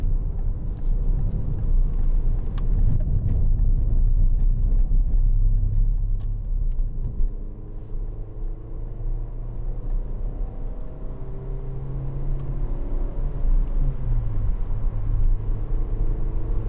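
A 2013 Citroen DS3 1.6 VTi DStyle Plus heard from inside as it rounds a roundabout on snowy roads: a steady, loud low engine rumble with gently rising and falling engine tones, and no talking.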